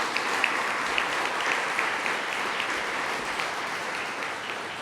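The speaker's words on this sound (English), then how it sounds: "Let's give a big round of applause to the O Club." An audience at the Otterbein Athletics senior awards banquet gives a round of applause, sustained dense clapping of a roomful of people, even and unbroken from start to end.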